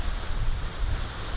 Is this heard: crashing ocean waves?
yes